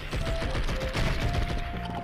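Video game gunfire from Blood and Bacon rattles in rapid, overlapping bursts, a continuous fusillade heard at moderate volume over a steady tone.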